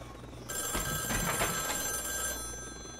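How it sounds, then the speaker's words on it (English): A telephone rings in the video game White Shadows, a sustained electronic tone that starts abruptly and holds steady before easing slightly, with no talking over it. "Is there like a button I gotta push to answer the phone?"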